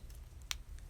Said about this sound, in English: See how the marabou bottles sound when we open the cap with one thumb.